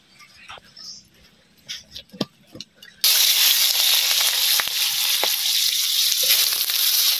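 Eggplant fritters fry in hot oil with a loud, steady sizzle that bursts in suddenly partway through, after a quieter stretch of soft kitchen clatter and a voice talking.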